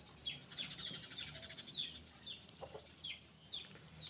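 A young fighting rooster, seven or eight months old, gives repeated short clucking calls, fairly faint and some distance off, over a soft outdoor background.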